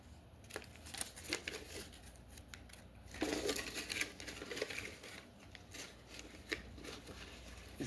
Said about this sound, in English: Why is it so hard to unwrap?